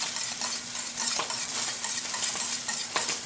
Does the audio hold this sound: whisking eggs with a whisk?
yes